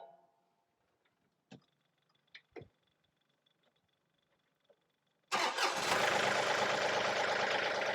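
A few faint clicks and clunks, then a John Deere tractor's diesel engine cranks and catches, settling into a loud, steady idle.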